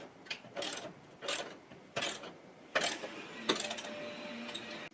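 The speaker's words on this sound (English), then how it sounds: "I'll tighten one bolt and then get the other ones close" A ratchet tightens a bolt on a TV wall mount, giving a series of short, fairly quiet clicking bursts in an uneven rhythm, close by and with no voices.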